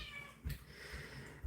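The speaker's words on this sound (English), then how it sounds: "Cat is the most talkative cat ever." A talkative pet cat meows indoors, fairly close and alone, giving a drawn-out call with short low chirps in between.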